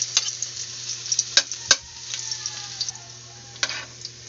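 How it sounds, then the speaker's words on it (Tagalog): Garlic sautéing in hot oil for pork bistek, a steady soft sizzle broken by occasional sharp crackles and stirring clinks, with no talking. "Nagigisa na po ako."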